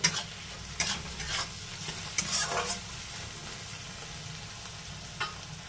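Onions and tomatoes fry in a pan with salt while a spoon stirs them, giving a steady close sizzle broken by several sharp scraping strokes, with no talking.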